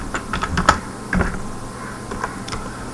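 Typing C source code on a computer keyboard, with a quick run of uneven clicking keystrokes and a few louder taps, close and alone without speech.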